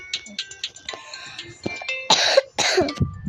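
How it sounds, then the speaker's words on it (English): A few short coughs in quick succession, close and fairly loud, following some quieter clicks and small shuffling noises, during play of the video game Tower of Hell. "cutely coughs"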